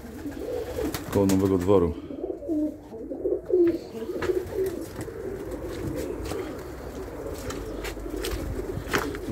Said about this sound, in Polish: Tamten żałobny to samiec, grucha